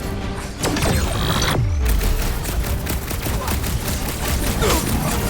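Gunfire during combat in the Guardians of the Galaxy video game: dense, rapid volleys of shots with sharp impacts and a low whooshing swoop, loud and close, continuing throughout.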